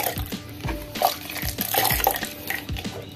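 Washing liquid being stirred into a bucket of water for laundering white clothes, with a steady close sloshing and swirling of water and occasional clinks against the container, no voices.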